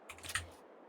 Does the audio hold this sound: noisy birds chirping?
no